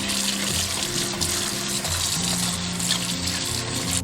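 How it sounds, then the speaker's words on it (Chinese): Mustard green stems being washed under running tap water, a continuous splashing gush with a steady low hum underneath, close and loud, with no voices. "把芥菜梗清洗干净。"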